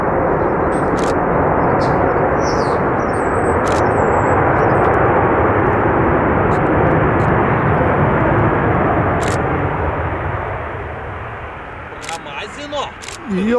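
A Ryanair airliner lands, heard from inside the cabin as a loud, steady roar of engines and airflow that eases off near the end, while passengers talk over it.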